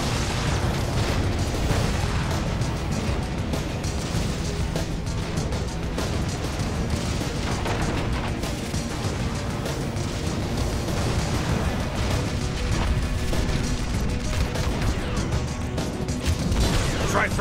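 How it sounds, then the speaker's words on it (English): Grenade blasts in the video game Marvel Ultimate Alliance 2 merge into a dense, loud, continuous rumble of booms and mechanical clatter lasting throughout. "Throwing those grenades right back where they came from."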